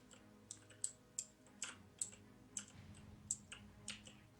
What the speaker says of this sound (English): I can hear all kinds of keystrokes over there